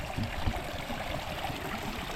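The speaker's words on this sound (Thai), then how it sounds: "น้ำไหลงามงามเลยทุกคน" Stream water flowing through a forest, a continuous broadband rush and gurgle with no pauses, steady and moderately loud throughout.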